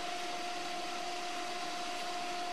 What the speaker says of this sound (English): your table machine is equipped with a vacuum attachment, it is very easy to use. Simply connect it and turn it on.